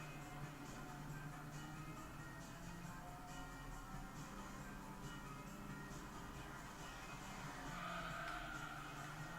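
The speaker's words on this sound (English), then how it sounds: "That was a good drifting technique." A Group B car in Gran Turismo 3 arcade mode drifts with engine roar and tire squeal, a steady, continuous racing din throughout with a brief sharper squeal near the end, no talking.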